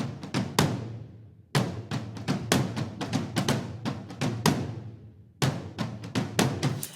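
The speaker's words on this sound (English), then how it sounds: "So in here, I added some cinematic drums. It's a loop from this sample pack." A cinematic drum loop from a sample pack, prepared for a remix: booming hits in a steady pattern with a short gap near the middle, played alone.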